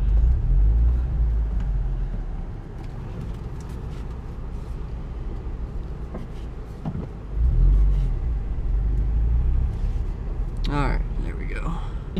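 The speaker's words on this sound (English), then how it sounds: "Did you see that big truck go by?" A big 16-wheeler truck drives past on a mountain road, a loud low rumble swelling at the start and again near the end, with faint talk in the background.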